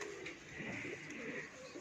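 Pigeons coo softly and steadily through a short outdoor stretch while a few birds are being handled and caught, with low murmurs and a faint background hiss around them.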